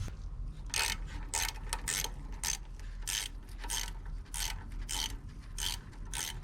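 Ratchet wrench with a 7mm socket loosening the air intake pipe clamp on a 2014 Chevy Cruze, a fast run of close, bright clicking bursts in uneven spurts over a low steady hum, with no talking.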